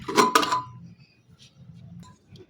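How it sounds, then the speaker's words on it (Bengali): A cooled pressure cooker holding vegetable dal has its lid opened: a quick pair of close metallic clanks, then near quiet with a few faint light rattles. "এখন ঢাকনাটা খুলে দিচ্ছি"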